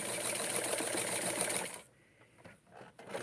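A sewing machine stitches fabric for a wrap skirt in a steady, fast mechanical whir, then stops abruptly partway through, leaving faint handling noises.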